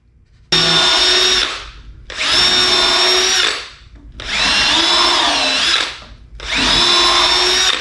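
A power drill drives screws into the wooden legs of a DIY patio bench in four long, loud whirring bursts of about a second and a half each, separated by brief pauses, close up.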